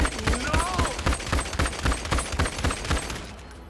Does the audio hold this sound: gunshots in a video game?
yes